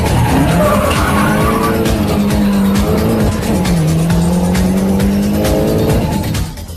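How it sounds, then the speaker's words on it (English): A race car spins out of control on a track, its tires squealing in long wavering tones over loud engine roar, with other cars rushing past before the sound fades at the end. "suddenly he spins out of control and drops back in the field"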